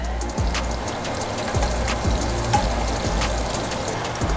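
Shrimp sizzle steadily in a frying pan for shrimp and grits, a loud close crackle with scattered pops and occasional scrapes as the pieces are flipped.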